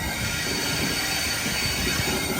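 A train in the yard of a railway station, with a steady rumble and a faint high squeal throughout and no talking, near the locomotive that hauled the Matsyagandha Express.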